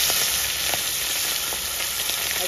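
Fish fries in hot oil in a pan, giving a loud, steady, crackling sizzle that fills the whole stretch without a break.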